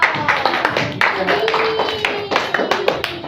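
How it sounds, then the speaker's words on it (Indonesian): Classmates clap their hands for a student during a peer-teaching lesson in a high school classroom, a scattered run of sharp, uneven claps close by with voices mixed in. "Tepuk tangan untuk Yogo."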